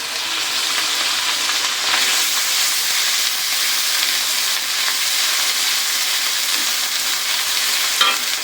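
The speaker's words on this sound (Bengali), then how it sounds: "আমার পেঁয়াজ রসুন ভাজা হয়ে গেছে, এখন আমি দিয়ে দিব" Ginger paste sizzling in a pan with fried onion and garlic for a Bengali chickpea dal dish, a continuous loud hiss with light stirring and a faint clink near the end, no voices.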